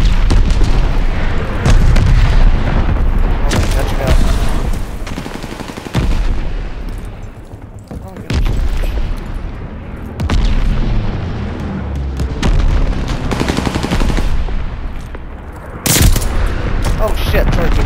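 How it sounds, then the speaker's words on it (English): Call of Duty Vanguard gameplay on PC, with dense bursts of gunfire and heavy booming explosions one after another, loud and close, and a player's voice breaking in briefly. "Shooting."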